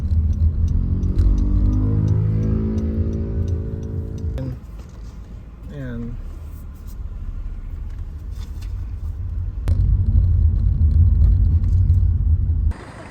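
Car engine rumble as a vehicle pulls into a parking station in Hong Kong, steady and close, with a quieter stretch in the middle, a brief clink, and a voice talking over part of it.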